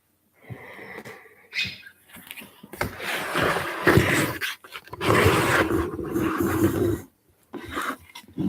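A dog makes rough, wheezy growling and huffing noises in uneven bursts, close by, with a few brief pauses between them.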